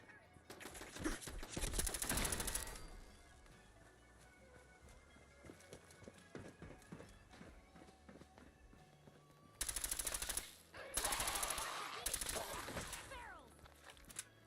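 Automated turrets in Fallout 4 fire rapid bursts, with two loud volleys at the start and later, separated by quieter game noise and footsteps.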